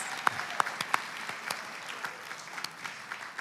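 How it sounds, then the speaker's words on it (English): Brief applause at the Black Legend Awards ceremony in Silicon Valley, a moderate crowd clapping with several sharp nearby claps and a short whoop or two. "Give her one more round of applause, all of you."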